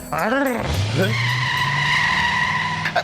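An engine sound fits a car starting and pulling away, with skidding tire squeal and engine whine under continuous voices and music. It is loud throughout, with a sweeping tone early on.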